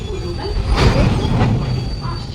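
Train at a railway station near Madanpur, a loud, close rumble of carriages with a swell of rolling wheel noise midway, heard alone without talk.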